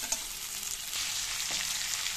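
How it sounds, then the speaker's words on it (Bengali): Fried pointed gourd and potato sizzle steadily in a pan as they are stir-fried, a continuous broadband frying hiss with a couple of soft stirring knocks, close and moderately loud. "ভেজে রাখা পটল আর আলু আমি দিয়ে দেবো, দিয়ে একটু কষিয়ে নেব"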